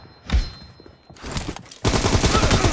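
Gunfire in a multiplayer shooter video game: a single close thud-like shot, then a burst of rapid fire, followed by a sustained loud stream of automatic shots.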